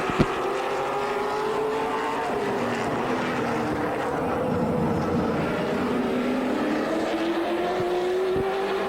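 Late model race cars roar around a quarter-mile track in a feature race. Engine noise is loud and continuous, with pitch sweeping up and down as cars pass, and no talk.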